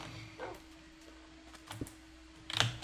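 Dogs in Minecraft bark in a few short, scattered bursts, fairly faint, over quiet background noise with no talking.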